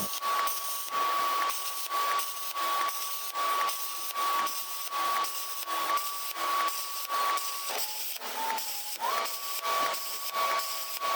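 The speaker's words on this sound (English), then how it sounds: "the plasma cutter should make pretty short work of it." A plasma cutter slices through the expanded metal of a trailer tailgate, giving a loud, steady hiss with a thin whistling tone that pulses in a regular rhythm and wavers near the end. No one speaks.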